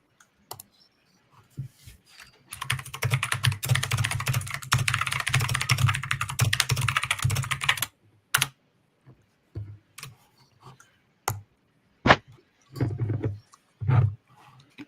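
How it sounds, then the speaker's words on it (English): A burst of rapid typing on a computer keyboard, loud close clatter lasting several seconds, followed by scattered single key taps and short bursts with quiet gaps. "We need to buy some noise suppression for Kevin's keyboard"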